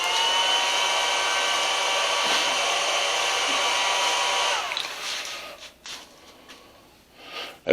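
A 230-volt three-phase electric motor runs on a 110-volt single-phase variable frequency drive, giving a steady high-pitched whine and hum. After about five seconds it cuts out and only faint clicks and handling noises follow.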